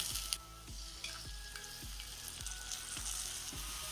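Onion and chutney sizzling in a pan for pav bhaji, with fennel and mustard seeds in the oil; a steady fry runs throughout while a spoon scrapes and stirs at a regular beat, close up, with no talking.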